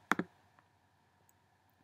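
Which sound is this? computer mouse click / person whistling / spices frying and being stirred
computer mouse click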